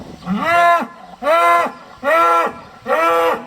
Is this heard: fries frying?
no